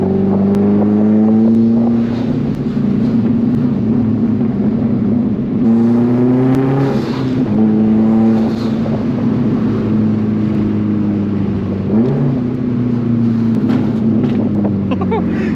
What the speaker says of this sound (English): This thing has a crackle map.